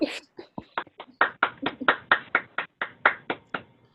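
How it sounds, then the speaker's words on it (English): Scattered applause after a planetarium research talk comes from only a few people, a sparse run of distinct, close claps that fades out near the end. "Another round of applause."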